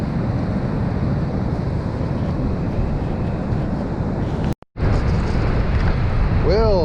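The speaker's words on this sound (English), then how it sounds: "it's definitely a windy day, offshore wind" Offshore wind on the Oregon coast buffets the microphone in a loud, continuous low rumble that cuts out for a moment before gusting back in.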